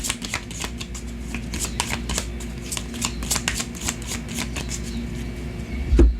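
A Cigano tarot deck being shuffled, a rapid, continuous riffle of cards close by, with a small knock near the end.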